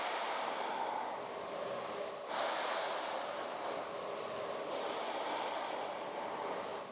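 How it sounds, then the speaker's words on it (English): A slow, deep breath drawn in and let out during a morning exercise for easing back pain, a steady close airy rush with a slight shift midway and no talking. "I'm going to start by inhaling and exhaling"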